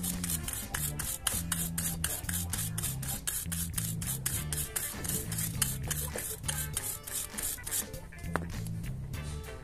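A rag rubs motorcycle sprocket parts on a Rocketman 250 clean, with rapid rhythmic swishing and scrubbing strokes close by, slowing into looser wipes toward the end.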